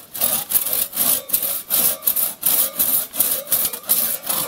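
A hand saw cuts through a maple tree trunk outdoors in steady rhythmic back-and-forth strokes, about three per second, close and loud, with no talking.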